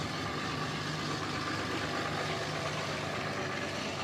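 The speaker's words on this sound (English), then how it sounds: "I'm going past a loud truck" A loud truck engine rumbles close by, a steady broadband roar with a low idling drone that holds without a break and drowns out everything else.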